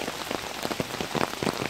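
Steady rain patters on surfaces at a lakeside campsite, with dense, continuous drops and scattered louder hits close by.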